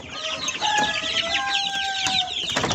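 A brood hen clucks close by among her chicks in a cage, giving repeated soft clucks over a busy backdrop of higher chirping.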